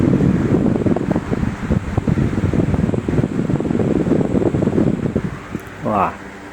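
A Miyako TJR-101 electric fan fitted with an Advance TDS-16 blade runs at its top speed 3, giving a loud, steady close-up rush of airflow over a motor hum, with a brief voice near the end.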